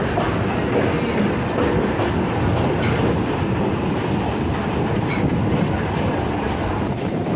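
A Kolkata Circular Railway train runs past Majerhat station alongside a highway. A loud, steady rumble of wheels on rails carries clattering rhythm throughout, heard from on board with no voices.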